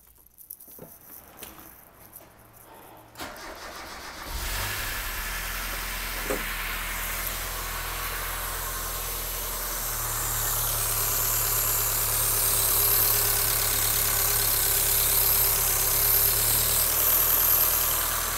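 Mazda Miata engine cranking after a few quiet clicks and handling sounds, then catching and settling into a steady, moderately loud idle that carries on to the end.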